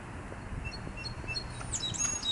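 A song sparrow calls from a tree on a heritage trail, with faint, high chirps over a dull outdoor rumble.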